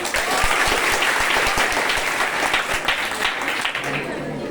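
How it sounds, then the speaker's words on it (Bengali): Sustained applause from an audience fills the hall at a school debate competition, a thick, even wash of many hands clapping with a few sharper claps standing out near the front. "একটা হাততালি হোক।"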